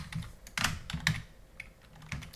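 Keystrokes on a computer keyboard while solving an NYT crossword, a few quick clicks then pauses in short irregular bursts, close and fairly quiet with no talking.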